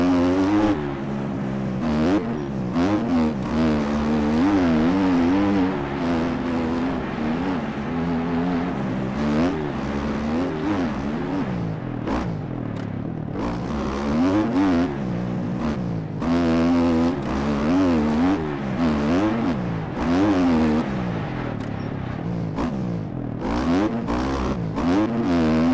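Motocross bike engine in the MX Bikes video game, racing a lap on a bumpy track, revving up and down continuously as gears shift, loud and steady for the whole stretch with no talk.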